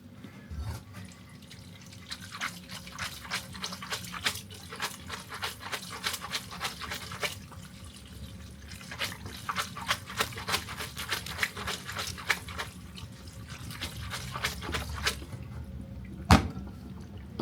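Water trickles and drips into a pan of cacio e pepe pasta sauce in a steady run of small splashes, with a sharp clink near the end; no one speaks.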